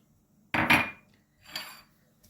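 Two short scraping clatters of a utensil stirring eggplant salad with walnuts, sumac and salt in a bowl, the first louder and the second softer, close and alone in a quiet room.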